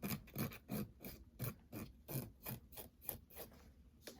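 A 180 grit file refining the shape of a sculpted acrylic nail over the tip, a close, raspy back-and-forth rubbing in about a dozen rhythmic strokes.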